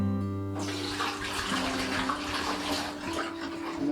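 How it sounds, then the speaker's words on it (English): Boiled water is poured into thermoses at an off-grid bathhouse: a steady, continuous splashing gush starts abruptly after a brief hum and runs unbroken, with no talking over it. "We boil it, and we put it in these thermoses"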